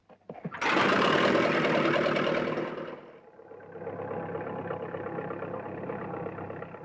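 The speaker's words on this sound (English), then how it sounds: "Tony McCoig, the younger farmer, starts his day in the saddle of a tractor" A tractor engine turns over and roars to life loudly, then settles into a steady, lower idle that rumbles on alone.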